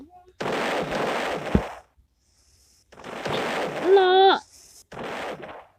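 Video game gunfire crackles in two dense bursts of rapid shots, separated by a pause, with excited talk heard alongside the shooting.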